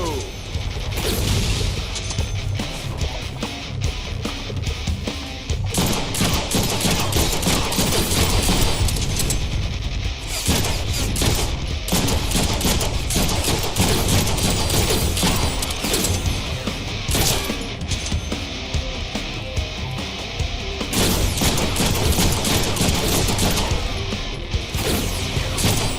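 Gunfire and crashing impacts from the Deadpool video game run in dense, loud bursts for the whole stretch, layered with mechanical clatter and whooshes and broken only by brief dips.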